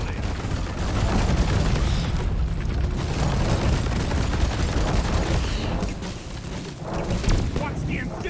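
Explosions and gunfire rumble through a Deep Rock Galactic fight, a dense, loud, continuous barrage with heavy booms and crackling bursts, a player's voice occasionally audible beneath the din.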